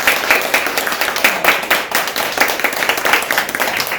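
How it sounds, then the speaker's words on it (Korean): A church congregation at a New Year's Eve service claps together in thanks, loud, close, brisk hand claps from many people filling the room without pause. "이렇게 약간 높이 들어서 하나님께 감사 영광의 박수 올리겠습니다"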